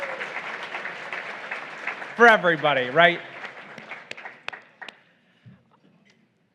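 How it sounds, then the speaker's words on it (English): Audience at a lunch keynote with an Illinois state senator breaking into applause, clapping fading out over several seconds into scattered final claps, with someone speaking briefly over the start. "let's give him a round of applause"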